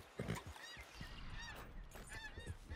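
Geese honk repeatedly in Red Dead Redemption 2, several calls scattered over a steady outdoor game ambience, moderately close with no talk.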